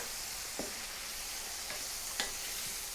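Tomatoes sizzle in a frying pan as they are tossed about, a soft steady hiss broken by a few light clinks and scrapes of stirring.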